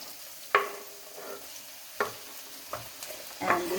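Chopped onion dropped into a pan with ginger and garlic for vegan lasagna, giving a low sizzle with several sharp scraping stirs at uneven intervals, close and moderately loud, no talking.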